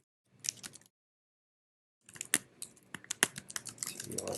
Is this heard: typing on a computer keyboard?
yes